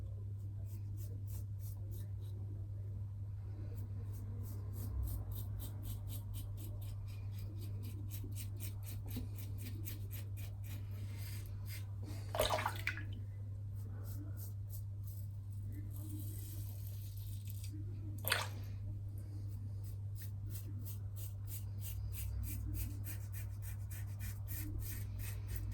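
Safety razor shaving through Palmolive shaving lather: soft, rapid scratchy strokes in a steady rhythm, faint and close, over a constant low electrical hum, with a couple of sharper scrapes partway through.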